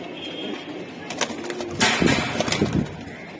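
Pair of Giribaj pigeons cooing close by, low soft coos repeating through a few seconds over a steady background hiss, with no voices.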